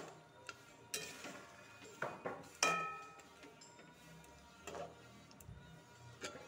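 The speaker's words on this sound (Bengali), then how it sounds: "একটু নাড়াচাড়া করব।" A spoon stirs katla fish kalia with yogurt in a pan, making scattered metallic clinks and scrapes against the pan. The sounds come in short irregular bursts, fairly close but quiet, with no talking.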